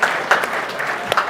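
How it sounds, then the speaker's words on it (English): An audience at a debate on whether technology is undermining democracy claps for all four speakers; the brief burst of close, crisp handclaps comes with a voice speaking faintly underneath. "Round of applause for all four."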